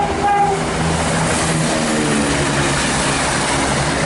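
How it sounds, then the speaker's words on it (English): A Chiltern Railways Class 168 three-car diesel unit on a London Marylebone to Oxford service rolls past, a steady loud rumble of engine and wheels lasting throughout, with a brief tonal horn-like note near the start. "coming through now is a service to Oxford from London Marylebone"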